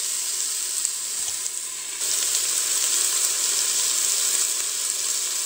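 Beef meatballs browning in a Cookeo pressure cooker give off a steady, bright sizzle that swells a little louder partway through and then holds evenly.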